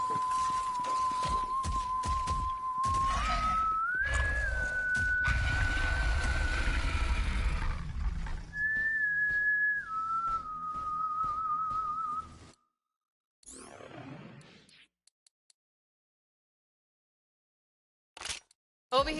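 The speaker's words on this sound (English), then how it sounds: "Someone was whistling." Someone in the video game Borderlands 3 whistles a steady, drawn-out tune of several held notes at moderate loudness, over background rumble, before a quieter stretch with brief sounds.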